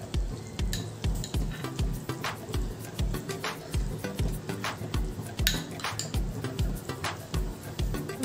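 Butter chicken gets stirred in a pan with fresh cream just added: a steady, rhythmic run of spoon strokes scraping and knocking against the metal, close and even throughout, over a faint sizzle with no talking.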